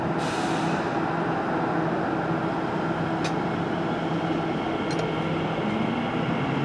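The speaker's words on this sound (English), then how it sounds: "The train approaching platform A is the service to Abbey Wood." A train pulls into the platform at Custom House station, a steady loud rumble of wheels and motors filling the whole span, with brief high hisses or squeals near the start and again later, no talk.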